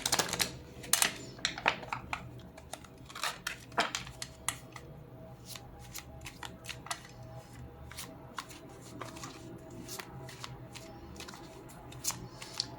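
A deck of 78 tarot cards being cut and handled, giving close, quiet, irregular papery flicks and snaps with soft rustling between them.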